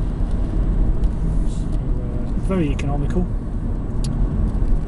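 A Renault Megane Estate with a 1.5 diesel engine cruises at 40 mph in sixth gear just over 1,000 rpm, a low steady drone with road rumble filling the cabin while someone talks over it.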